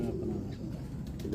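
Cooing of a long-legged crossbreed pigeon, a low steady throaty murmur close by, continuing through the short moment.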